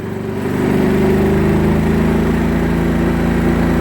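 A Könner & Söhnen KS 4000iEG S dual-fuel generator runs at a steady, loud mid-pitched engine drone, rising quickly to full speed in the first half second and then holding an even hum.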